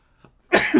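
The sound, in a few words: sneeze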